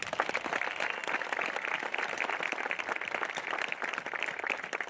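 A graduation audience applauds FFA state degree recipients, a dense, sustained clapping from a large crowd, moderately distant and even throughout.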